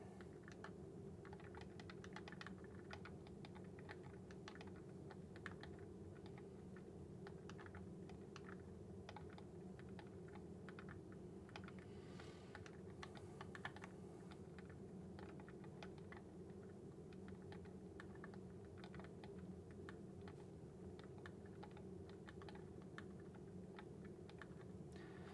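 Rapid clicking keystrokes on a CharaChorder One chorded keyboard carry on steadily throughout, close and soft over a low background hum.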